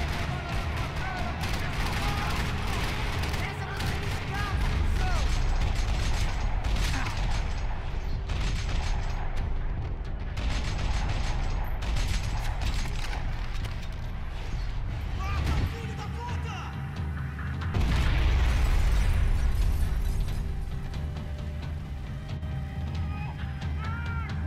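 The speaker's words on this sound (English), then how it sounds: "Another parking lot rattling with gunfire." Gunfire fills a parking lot in the Max Payne 3 video game, with dense, continuous bursts of shots and crashing impacts layered under character voices.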